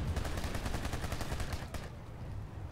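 Rapid automatic gunfire rattles in a continuous burst during a Planetside 2 firefight, loud and close, tapering off near the end.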